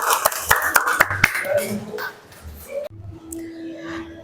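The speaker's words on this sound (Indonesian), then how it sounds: "tepuk tangan kita untuk kita semuanya" A classroom of students claps together at their teacher's prompt, a quick patter of sharp, fairly close hand claps that stops abruptly, followed by a quieter room with a voice speaking.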